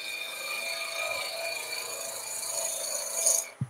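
A skew chisel rubs its bevel along spinning wood on a lathe while shaping a wooden baby toy, giving a steady, close, hissing scrape that swells briefly near the end before a sharp knock.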